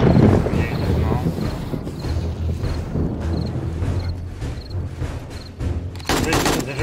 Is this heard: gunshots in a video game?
yes